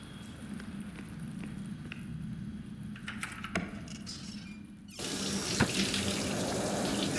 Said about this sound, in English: As you step back inside your flat, you hear running water coming from the bathroom.